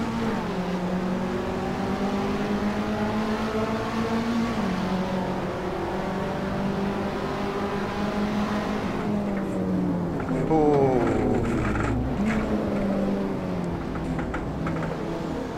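Race cars in Assetto Corsa roar around the Nurburgring sprint layout, engines holding steady high revs with rising and falling pitch sweeps as gears shift, several cars blending into a continuous loud drone.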